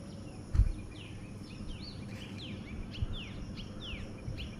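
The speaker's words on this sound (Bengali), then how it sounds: "একটা পাখি অনেক দূরে ডাকছে, শুধু আওয়াজ শোনা যাচ্ছে।" A far-off bird repeats thin, quick chirping calls over a quiet morning by a rooftop vegetable garden, with a soft thump early on.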